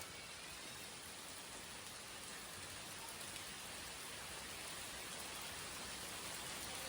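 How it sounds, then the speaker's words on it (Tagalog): A continuous, even wash of heavy rainfall on Boracay Island, Philippines, soft and somewhat distant, with no other sounds or voices. "Biglang dumilim yung panahon tapos malakas yung ulan."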